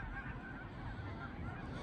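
Canada geese honking at night on Crescent Lake in Portage la Prairie, a dense, continuous chorus of many birds blending into a steady wash of calls, moderately distant.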